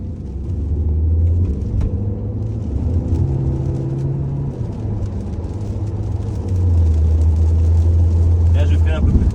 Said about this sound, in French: je vais profiter de cette ligne droite pour faire une accélération un peu plus poussée